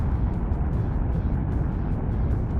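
A spaceship engine in the video game Dual Universe roars as a loud, steady low rumble with a broad hiss, continuous and alone.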